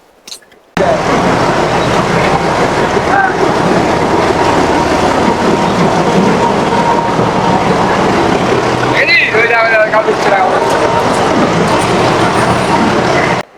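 Netaji Express, formerly the Kalka Mail, rolling into a station, a loud continuous roar of wheels and carriages passing close by after a brief quiet start, with a faint horn-like tone partway through.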